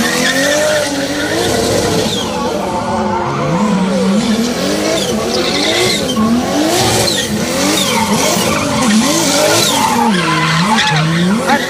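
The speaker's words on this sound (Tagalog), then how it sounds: "Kasunod dito ang umatikabong car drifting" Cars drifting at a show, loud continuous tire squeal wavering up and down over roaring, revving engines and crowd noise, sustained throughout.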